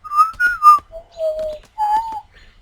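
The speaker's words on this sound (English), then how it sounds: "That was not the best whistling of mine." A person whistles a short tune of several sustained, wavering notes, close and clear with brief pauses between phrases and almost nothing in the background.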